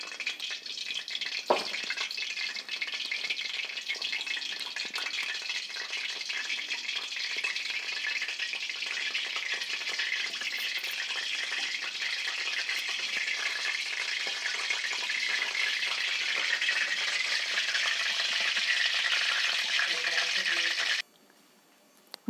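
Onions frying in hot oil for a goat head curry, a steady, dense sizzling hiss that holds evenly for about twenty seconds before cutting out abruptly near the end.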